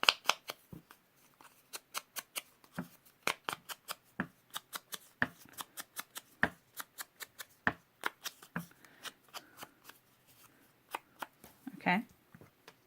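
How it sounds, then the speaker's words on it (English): Foam sponge dabbing garden green ink around the edges of a kraft card, a quick series of soft, regular pats close by, with brief voice at the end. "I'm just going to sponge around the edges."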